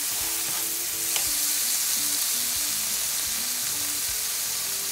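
Tomato sautéing in a pan for a Colombian criolla sauce, with a steady loud sizzle and occasional stirring clinks, uninterrupted throughout.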